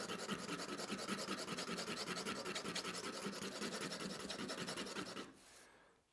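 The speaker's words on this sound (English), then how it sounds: "What we want to do now is to actually grind the sharp edge that we have here. So I'm just gonna use a sandpaper," Sandpaper grinding the sharp cut end of a metal spring, a rapid rhythmic scratching rasp that runs steadily for about five seconds, then stops, close and unaccompanied by speech.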